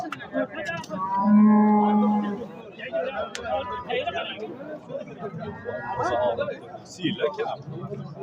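Cattle moo loudly nearby, a long low call followed by more lowing, over a busy background of people talking and chatter at the Beshariq livestock market.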